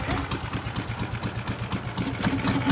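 A small boat engine runs steadily nearby with a rough, chugging idle, its low putter continuing evenly throughout.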